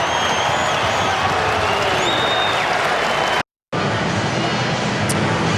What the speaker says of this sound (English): they start applauding.